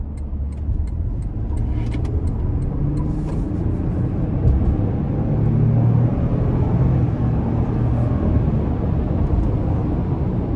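A 2025 Toyota Tundra SR5 pickup in sport mode accelerating onto an interstate, heard from inside as a steady low engine rumble with road and wind noise building gradually, no voices.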